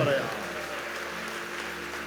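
A congregation at a Sunday church service claps together, a soft, steady wash of hands under a faint sustained musical backing, with a brief vocal sound at the start.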